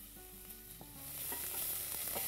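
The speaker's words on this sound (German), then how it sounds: "Und dann braten wir unseren Lauch an." Leek sizzling in a hot pan with garlic and chopped onions, a steady crackling fry that grows louder as the vegetables hit the oil, heard close with no talk.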